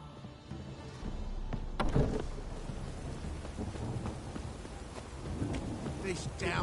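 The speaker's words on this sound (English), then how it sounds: "This downpour's a bastard, it is." Heavy rain and rolling thunder in The Witcher Wild Hunt, a steady dense downpour with a sharp thunder crack near the start and low rumbles after, voices faintly murmuring underneath.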